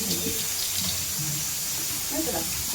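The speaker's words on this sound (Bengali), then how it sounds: "এখন জল এত স্পিডে পড়তে থাকো কিছু করে না" Fast-flowing water pours from a recently repaired household tap in a steady continuous rush, close and fairly loud, with voices murmuring underneath.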